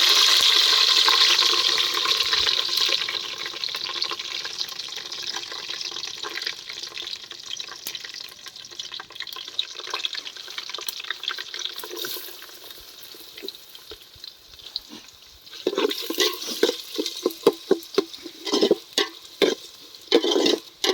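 Loud, steady hiss of curry leaves and garlic frying in hot oil, fading somewhat, then joined by sharp crackles and pops toward the end.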